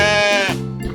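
Baby goat on a farm letting out a single close, loud, wavering bleat lasting under a second.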